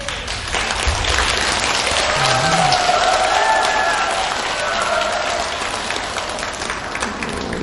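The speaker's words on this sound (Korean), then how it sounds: "여러분들이 막 휘파람 소리까지 불러주니까 내가 BTS가 된 것 같아." Sustained crowd applause at a Buddhist dharma talk, with many hands clapping in a dense even wash and shrill whistles rising above it midway through, continuing steadily without a break.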